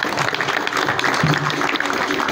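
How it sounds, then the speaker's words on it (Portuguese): A crowd claps in a sustained round of applause at a capoeira graduation ceremony, a dense steady patter of many hands filling the room without pause. "uma salva de palmas"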